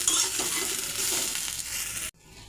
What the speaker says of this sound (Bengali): সজনাগুলো হালকা ভেজে নিয়েছি, এখন উঠিয়ে নেব।